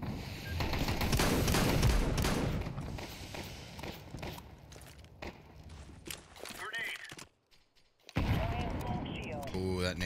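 Bursts of gunfire and a grenade blast in Counter-Strike 2, with rapid shots and footsteps in a loud opening flurry that thins out, briefly drops to near silence, then picks up again, while someone talks over it.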